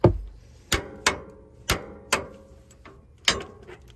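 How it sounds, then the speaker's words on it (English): Sharp metallic clicks from a torque wrench with a 14 mm Allen socket tightening a bolt on an oil cooler of a 2000 Ford Excursion 6.8L V-10, about six separate close, loud snaps spaced irregularly in a quiet garage. "I'm going to be torquing it down to 43 foot-pounds"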